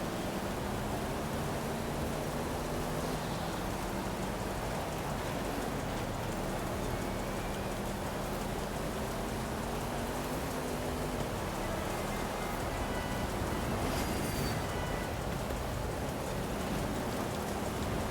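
Steady rain and wind in the racing game Forza Horizon 5, heard around a 2013 Audi RS 7 Sportback: a dense, even hiss of rainfall that holds throughout at moderate loudness, with faint tonal engine drone beneath it.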